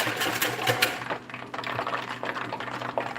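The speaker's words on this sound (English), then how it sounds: "And whisk away again." A whisk beats rapidly against a bowl while preparing country-fried catfish, giving a quick, steady clicking rattle at close range.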